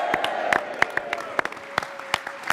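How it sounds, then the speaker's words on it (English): Scattered clapping from an audience at a Brexit gathering in Westminster, a string of sharp separate claps from a modest crowd with a faint steady tone underneath. "Give yourselves a round of applause."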